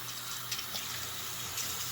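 Water running steadily from a tap to wet a face sponge, a constant close hiss and splash without pauses.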